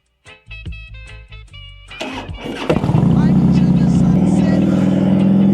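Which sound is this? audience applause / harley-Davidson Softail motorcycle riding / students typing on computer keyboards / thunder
harley-Davidson Softail motorcycle riding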